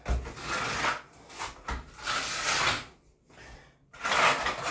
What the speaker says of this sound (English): we're just going to take this trowel in here and come in and fill up all these places in here and make a really nice surface